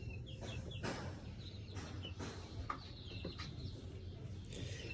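A flock of 27 hens clucks softly in short scattered bursts over a low steady background hum, with a few brief chirps mixed in.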